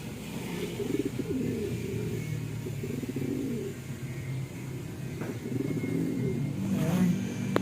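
Pigeons perched on a pole coo faintly in short bursts at a distance, over steady traffic and a passing engine revving near the end.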